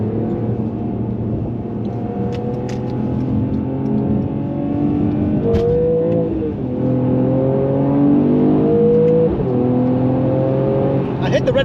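A Mercedes-AMG E53 (W213) engine revs up through the gears toward its 6,500 RPM red line, with rising and falling engine tones across several shifts, loud and close from inside the car.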